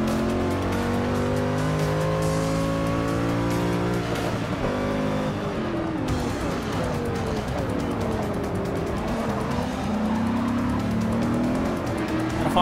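A Corvette C7R race car in Forza Motorsport 6, driven at night with manual paddle shifts. The engine roars loud and steady, rising and dropping through gear changes with intermittent tire squeal.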